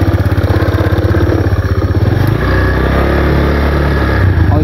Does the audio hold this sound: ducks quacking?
no